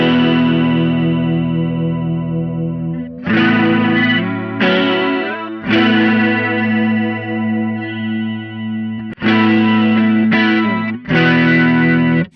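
Electric guitar with humbuckers played through a Walrus Audio Julia analog chorus pedal into an amp, shimmering wavering chords struck in several bursts with short gaps between, loud and close.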